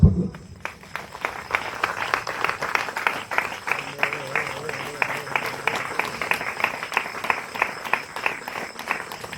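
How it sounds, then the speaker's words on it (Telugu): A church congregation claps loudly and steadily, a dense rapid patter of many hands filling the space for several seconds. "గట్టిగా చప్పట్లు."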